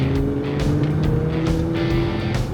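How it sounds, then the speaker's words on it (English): A Nissan GT-R producing about 600 horsepower accelerates hard, its engine tone climbing steadily, loud and close with a continuous rising roar and no talking. "And with so much power under the hood, again, almost pushing like 600 horsepower, and it just goes"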